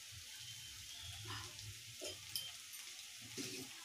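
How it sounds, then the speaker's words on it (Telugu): Ginger-garlic paste and garam masala fry in a pan for chicken curry with a quiet, close sizzle, broken up by a few soft stirring scrapes and light clinks. "అల్లం వెల్లుల్లి పేస్ట్, గరం మసాలా వేసి వేయించి"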